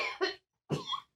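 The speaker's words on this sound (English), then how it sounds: "you're having a huge coughing fit" Two harsh, close coughs burst out in quick succession with a brief gap between them, from someone in a closed room where a joint is being smoked.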